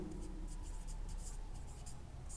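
A teacher writes on a board during a physics lesson on flotation, making short scratchy strokes in a steady, uneven run, close and clear over a low constant room hum, with no talk.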